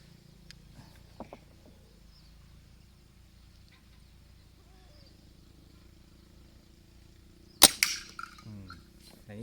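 An 8mm PVC pressure air gun fitted with a silencer fires one sharp, muffled shot late in the clip, near and brief, with a little outdoor rustle and faint bird sounds around it.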